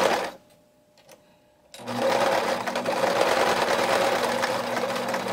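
A sewing machine stitches across the corner of a knitted wrist purse, starting after a short pause and running as a steady, close, rapid mechanical whir that continues to the end.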